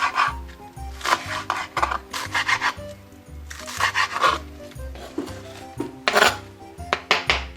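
Steady rhythmic chopping of a knife cutting onion on a cutting board, close up, with scraping and rubbing between strokes and no talking.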